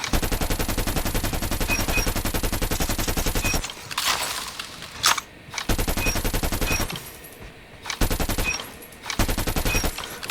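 A Krig 6 assault rifle fires in Call of Duty Mobile during ranked play, in long sustained automatic bursts of rapid, evenly spaced shots, loud and close, broken by short pauses.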